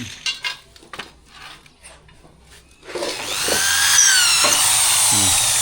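Power drill boring holes into a wooden leveling board for a rice paddy, a loud sustained whine with shifting pitch that starts after about three seconds of quieter clatter and thumps.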